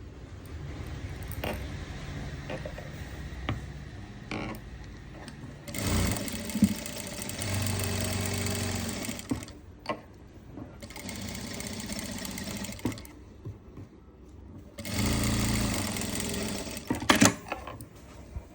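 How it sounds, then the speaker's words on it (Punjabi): Domestic sewing machine stitching a pocket onto ladies' trousers in a tailoring workshop, running in three bursts of steady mechanical whirring with short pauses between them, close and moderately loud, with no talk. "ਇੱਥੋਂ ਇੱਕ ਆਪਾਂ ਇੱਕ ਕੱਚੀ ਸਲਾਈ ਲਗਾ ਲੈਣੀ ਆ"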